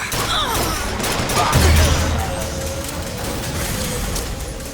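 Gunfire in the BioShock Infinite video game, a loud continuous burst of rapid shots and booms filling the whole stretch under game noise, with shouted voices.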